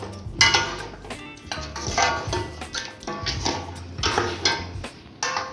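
Paye (goat trotters) being stirred with yogurt in a metal cooking pot, with repeated clanking and scraping of a spoon against the pot in an uneven, close rhythm.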